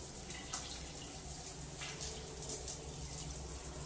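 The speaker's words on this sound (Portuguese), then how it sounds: "Eu enxaguo com o chuveirinho do banheiro" Steady spray from a handheld shower head rinsing a bathroom shower enclosure, a constant close hiss of water hitting glass and tile with no talk.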